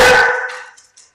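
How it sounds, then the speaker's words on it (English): A dog gives a single loud, close bark that quickly fades, with no talking alongside it. "I'm going to have to lock my dogs up."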